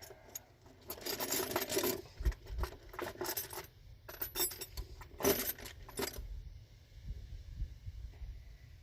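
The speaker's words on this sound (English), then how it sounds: "So I go over here to my toolbox, pull out some more tools." Metal tools and sockets clinking and jangling as they are pulled from a toolbox during repair of a 1993 Chevy G20 van window motor, in bursts of rattling clatter with quieter pauses between, close and alone.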